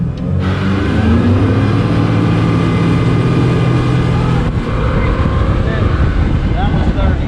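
A 29-foot custom fiberglass motorboat with 300 horsepower roars steadily at full throttle, loud and close, with heavy wind buffeting the microphone throughout.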